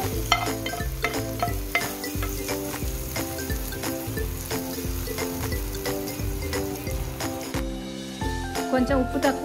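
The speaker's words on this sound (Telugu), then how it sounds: "చట్నీ పైన పోపు ఇలా వేసుకోవాలి" Hot tempering is poured over cucumber bajji chutney and stirred, giving a soft sizzle and scraping under steady background music throughout.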